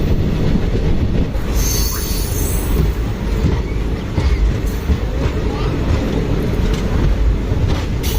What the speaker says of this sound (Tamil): பார்த்தீங்களா வண்டி ஸ்பீட் எடுக்குது.